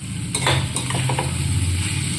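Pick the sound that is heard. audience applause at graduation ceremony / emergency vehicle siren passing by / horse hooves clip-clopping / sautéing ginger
sautéing ginger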